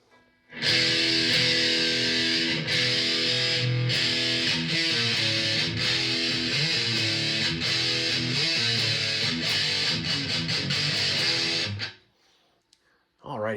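Electric guitar played through a Mesa Boogie Mark V25 amp with a crunch tone, loud sustained distorted chords and riffs for about eleven seconds before cutting off.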